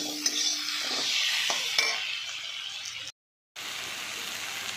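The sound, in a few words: stirring fish with turmeric, chili powder and salt in pan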